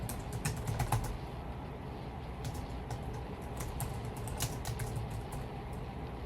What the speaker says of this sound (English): We'll find out if I'm typing it correctly when it works or doesn't work.